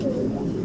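Racing pigeons coo close by in a short, low, steady murmur with no break.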